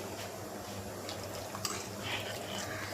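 Water is poured into a pan of onion theeyal, a Kerala onion curry. It makes a close, continuous splashing rush with faint clinks of the pan underneath.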